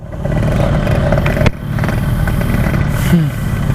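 A Yamaha RX King two-stroke motorcycle engine runs loud and close while riding, a steady raspy drone with a brief dip in the middle before the engine picks up again.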